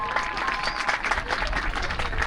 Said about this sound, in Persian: عزیزان به هر اندازه که از نمایشش لذت بردی خواهش میکنم تشویق کنید